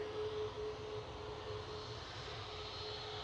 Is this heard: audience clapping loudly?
no